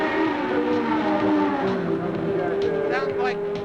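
Race car engine at the 24 Hours of Le Mans, a steady droning tone with shifting pitch, heard at a distance beneath people talking throughout.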